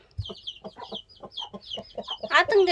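A hen clucks in soft, repeated bursts among her newly placed chicks, the short calls coming one after another up close, with a sharper, louder squawk near the end.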